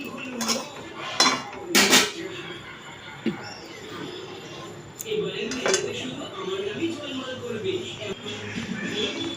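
A cooked pointed gourd dish is tipped out of a pot, with metal utensils clinking and scraping against the cookware in several sharp bursts, then softer shuffling, while a voice talks intermittently.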